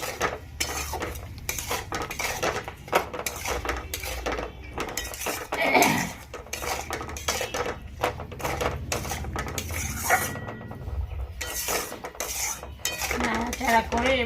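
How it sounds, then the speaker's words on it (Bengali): A spoon stirs and scrapes masala with a little water in a pan for egg kofta, giving repeated clinks and scrapes of metal on metal in an uneven rhythm, close and fairly loud, with a faint sizzle underneath. "সামান্য একটু জল দিলাম এবার নাড়াচাড়া করে"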